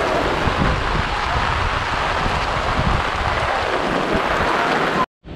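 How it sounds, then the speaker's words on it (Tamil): Heavy monsoon rain pours at Murdeshwar on the Western Ghats coast of Karnataka, a loud, steady broadband hiss with no break that lasts about five seconds and then cuts off abruptly. "வெஸ்டர்ன் காட் சைடு வந்து வந்து மழை பெஞ்சது பெஞ்சது"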